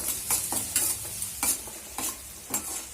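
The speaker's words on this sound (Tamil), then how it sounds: "அப்புறமா வந்து வெங்காயம், கட் பண்ண வெங்காயம் வந்து போட்டுட்டு ஃப்ரை செய்யுங்க" Chopped onion and green chili fry in a pan for upma, with a crisp stirring scrape roughly every half second over a low, steady sizzle.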